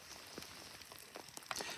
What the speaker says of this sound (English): A little rain never hurt nobody, though.